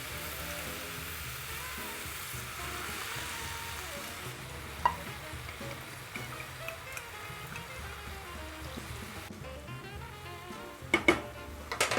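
Lamb and mushrooms seasoned with salt and pepper sizzle steadily in a pan, a constant soft frying hiss with a few faint clicks and utensil taps near the end.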